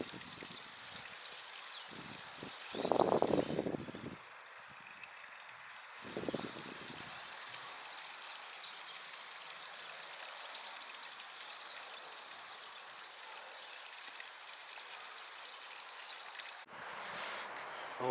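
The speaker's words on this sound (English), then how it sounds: "For once in its life, the old waterfall's going well today." A park waterfall in November, heard as a steady broadband rush of falling water throughout, with brief louder bursts of movement near the start and a change in tone at the end.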